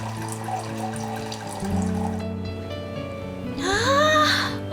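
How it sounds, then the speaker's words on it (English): A stream of water trickling through a harp-like water feature that resembles a Japanese harp, a steady close flow with bright, ringing tonal notes swelling toward the end. "looks like a Japanese harp and plays a stream of water"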